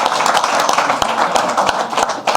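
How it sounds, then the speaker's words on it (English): An audience at a boxing press conference gives a round of applause for a fighter, a dense, loud burst of many hands clapping with sharp individual claps standing out throughout. "Give him a round of applause, ladies and gents."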